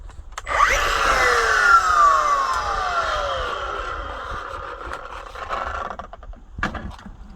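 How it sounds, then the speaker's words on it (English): A cordless Milwaukee angle grinder running on a 9Ah battery spins up with a loud whine that drops steadily in pitch as it winds down over several seconds, ending with a couple of sharp clicks. "You spin the grinder."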